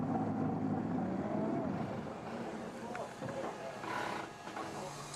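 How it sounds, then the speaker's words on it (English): A Rhaetian Railway locomotive with a snow plow, working at full power on the snowbound Bernina line in the Swiss Alps, gives a loud, continuous droning roar with steady tonal engine hum and some wind buffeting. "But even the most powerful locomotive has to run all out here"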